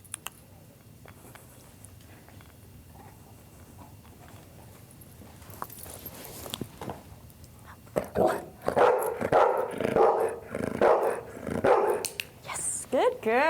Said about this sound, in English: They will bark for help until someone comes to help.